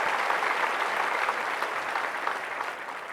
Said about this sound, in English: Let's give him a round of big applause again,